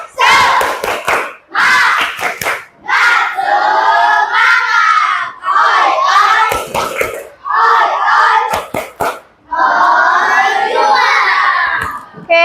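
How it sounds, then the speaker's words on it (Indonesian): Primary school pupils perform the tepuk semangat clapping chant in a classroom, loud group shouting of the chant broken by sharp, rhythmic bursts of hand claps in quick sets, with the children's voices dominating throughout. "Oke, kita tepuk semangat satu kali lagi ya."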